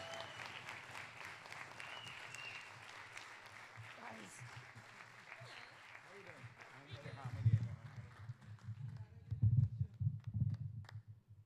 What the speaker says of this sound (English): One more round of applause for Helen.